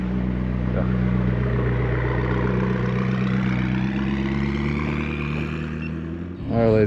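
A 2017 Audi R8 V10 Plus idles steadily and loudly up close, a deep, even engine drone with strong low harmonics that holds for several seconds before a brief sharper rise at the end.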